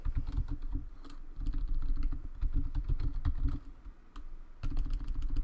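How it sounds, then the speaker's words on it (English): A password is typed on a computer keyboard set at an awkward angle, with a quick, irregular series of close key clicks and taps over a low steady hum. "So we have to type in our password."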